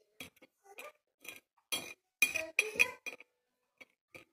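A small spoon clinks against a glass while mixing coconut oil, lemon and salt: a string of light, bright taps in an irregular rhythm, close and clear, with quiet pauses between them.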